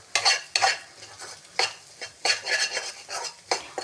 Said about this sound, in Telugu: తగినంత సాల్ట్ వేసేసుకొని బాగా వేయించుకోవాలి